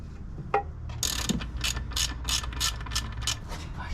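Ratchet wrench clicking in rapid bursts while undoing bolts on a Subaru Forester engine or transmission mount, close and fairly loud, a short spaced series of crisp ratcheting strokes with no talk.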